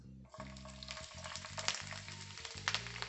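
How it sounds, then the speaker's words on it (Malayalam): Chopped ginger and garlic frying in leftover pork oil, a steady close sizzle with crackling pops and scraping stirs throughout, over a low repeating background hum, no talking. "പോർക്ക് ഫ്രൈ ചെയ്ത ഈ എണ്ണയിലോട്ട് തന്നെ നമ്മൾ ചെറുതായിട്ട് കട്ട് ചെയ്ത് വെച്ച ഈ ഇഞ്ചി വെളുത്തുള്ളി"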